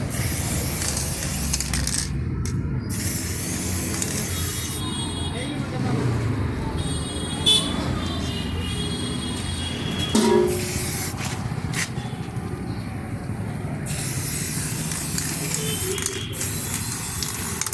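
Spray paint hissing steadily onto an alloy wheel during a low-cost DIY refinish, a continuous close spray broken by brief pauses and a few clicks and knocks, with a voice talking over it.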